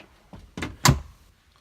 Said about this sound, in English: Door closes like normal